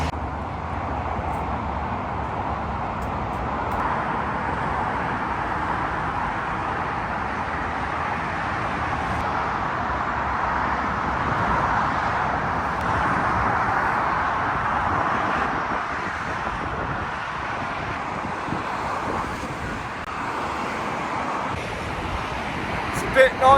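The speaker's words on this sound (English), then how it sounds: "As you can hear a rumble, because we are about to cross over the Manchester Ring Road." Traffic on the M60 Manchester Ring Road motorway, heard from a footbridge crossing above it: a continuous, even roar of passing vehicles that holds steady throughout with no breaks.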